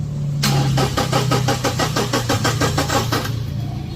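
A carbon-clogged Toyota Innova 2.8 diesel engine cranks with a rapid even chugging, then catches and settles into a loud, steady idle rumble close by, with no talk.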